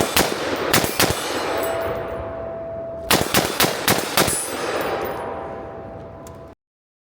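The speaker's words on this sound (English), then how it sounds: "We're going to shoot 10 rounds, 2 5-round groups." An IWI Tavor bullpup rifle firing about ten rounds in two groups of five at a range: sharp, loud cracks with ringing tails, a pair of shots first and then a faster cluster after a pause.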